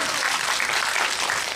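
An audience at a Korean film Q&A screening for Hunt, with Lee Jung-jae and Jung Woo-sung present, breaks into a short, fairly loud burst of dense applause.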